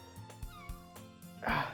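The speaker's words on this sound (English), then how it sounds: "Ow, my cat!" A cat meows a few times in short, rising calls, close by, while game music plays underneath during a visual novel session.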